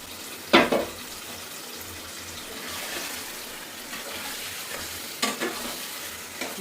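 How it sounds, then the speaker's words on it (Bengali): Desi chicken pieces being stirred and fried in spice paste in a pan, with a steady low sizzle, a couple of sharp spoon-scraping clatters near the start and end, and no talking. "তো মশলার মধ্যে এখন মাংসগুলো কষিয়ে দিচ্ছি"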